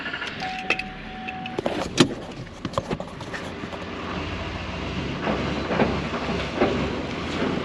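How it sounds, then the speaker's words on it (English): A worn-out GMC Denali truck strains to pull a trailer, its engine a steady low rumble with rattling knocks and clunks, nearby and fairly loud, with no talking. "You ready to hear this turd try and move this trailer?"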